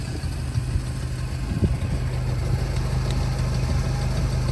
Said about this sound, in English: Again, vehicle is running.